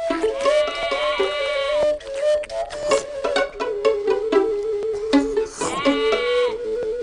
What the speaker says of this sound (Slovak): A neviete, čo sa stalo tej ovci v kúte ohrady?